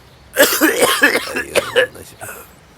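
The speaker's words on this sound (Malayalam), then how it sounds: "എന്തു പറ്റി സാറേ, ചുമയൊക്കെ?" A person coughs repeatedly in a short, rough burst of several hacking coughs close up, then it trails off.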